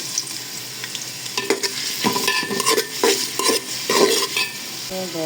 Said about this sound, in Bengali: এখানে গরম মশলা গরম হওয়ার পরে কিছু পেঁয়াজ দিয়ে